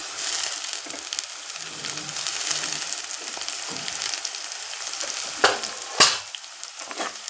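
Onions and ginger garlic paste frying in a pan, a steady close sizzle broken by a couple of sharp scraping stirs from a spoon toward the end, with no talking.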